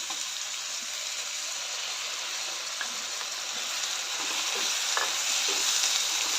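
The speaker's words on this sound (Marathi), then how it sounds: "हिरवं वाटण घालून चांगलं मिक्स करून दोन मिनटं परतून घेऊया" Green masala paste is stirred and sautéed with onion and potato in a pan, giving a steady, close sizzle with light scraping clicks from the spoon scattered through it and no voices.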